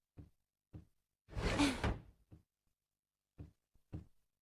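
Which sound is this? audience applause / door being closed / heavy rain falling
door being closed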